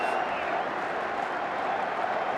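Crowd applause at a Watford football cup match, a continuous, even roar of clapping and cheering from a large stadium audience, heard at a distance and moderately loud throughout.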